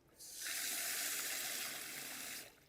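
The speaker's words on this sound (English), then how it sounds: "otherwise I will keep on pouring water here" Water pours steadily into a 20W PopoSoap solar fountain, a soft, even hissing splash that rises quickly, holds for about two seconds and then stops, heard alone with no talking.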